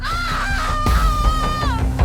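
A woman lets out one long, loud, sustained scream that holds steady and then bends downward at the end, over a low rumbling background.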